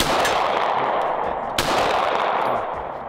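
A fast, continuous string of pistol shots at a shooting target roars with dense, overlapping cracks and one sharper report in the middle.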